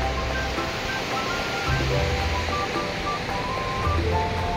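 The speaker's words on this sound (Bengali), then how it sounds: "এই চন্দ্র নদী এখান থেকে এরকম বয়ে যাচ্ছে" Steady rushing water of the Chandra river flows without pause, a broad even roar nearby in snowy mountains near Sissu village, with a slightly heavier low rumble at moments.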